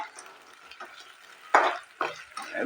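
Tomato puree is added to a frying pan for mati dali and stirred with a spoon, giving a few scraping, sizzling bursts that end with a clear clink.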